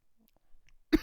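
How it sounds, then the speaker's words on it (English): A single sharp cough bursts out abruptly after near silence, brief and close, with only faint rustling before it. "that's gonna be hard to mask this cough"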